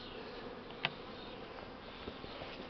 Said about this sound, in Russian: Вот уже видно, летные пчелы на клеточку пришли,